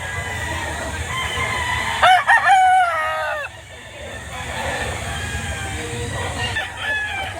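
Papay Gray gamefowl rooster crows loudly and close at a poultry market in Padre Garcia, Batangas, one strained crow rising and falling, with clucking and a busy murmur of people around.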